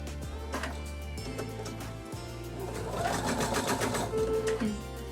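Embroidery machine stitching a medical mask held in the hoop, a steady close mechanical whir with rapid needle ticking throughout and slightly louder busy stitching toward the end.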